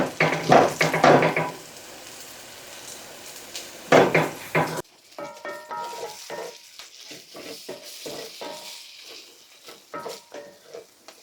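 Refried beans cooking down and thickening in a pan, with bursts of sizzling and spoon-against-pan scraping and clatter, followed by quieter intermittent clinks and stirring.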